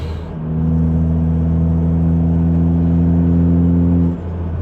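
A Ford Focus ST with a Pulsar 4849G big turbo sends out a loud, steady engine drone up close for several seconds before it eases off, with no clear separate flutter.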